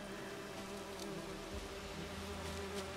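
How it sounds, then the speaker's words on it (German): Bees buzz steadily in The Witcher 3 video game, a constant droning hum that stays even and unbroken, moderately loud with no talk over it. "Ah, das sind wieder Bienen."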